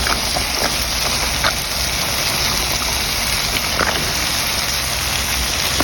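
Potatoes and beans with dried fish sizzle steadily in a hot pan, a dense even hiss like light rain, with no talking over it.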